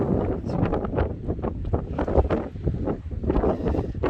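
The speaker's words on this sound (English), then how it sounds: "The wind's coming from this road." Strong wind gusts buffet the microphone at a solo wild camp in the Mourne Mountains, a loud, continuous rumbling roar that swells and dips without pause.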